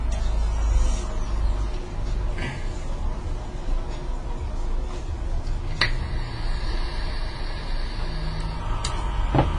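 Steady street traffic rumble drifts in from a city block where two schools are letting out, a constant low wash of engines with occasional faint clicks and a brief higher whine.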